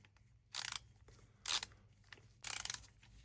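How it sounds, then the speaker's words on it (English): Three short bursts of quick plastic ratchet clicks from the handle of an ALDI cordless multi-tool saw, close and crisp, spaced about a second apart with quiet handling noise between. "Push the button in and we can adjust the angle. That's neat, isn't it? I like that. And it's a ratchet."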